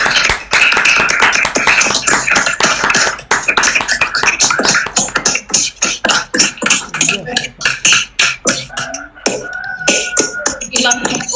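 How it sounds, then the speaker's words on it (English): Applause from an award-ceremony crowd for the Baldev Singh Impact Award winner, dense and sustained at first, then thinning into scattered individual claps with a few voices near the end. "a big round of applause for the winner of the Baldev Singh Impact Award is Jonah Mungoshi"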